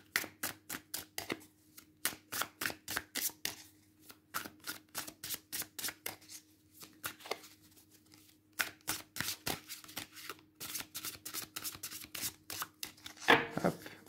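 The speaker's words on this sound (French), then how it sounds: "on va tirer ensemble 3 cartes du tarot et une carte de l'oracle" Tarot and oracle cards are shuffled by hand in quick bursts of crisp riffling, short clustered flurries with brief pauses between them, close and clear with no talking.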